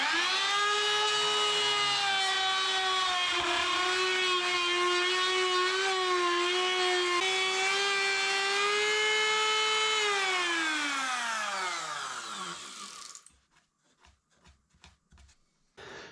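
A router deepens small routs in a Stratocaster guitar body, whining loudly and steadily at high speed for about ten seconds before spinning down, followed by a few light knocks and clicks.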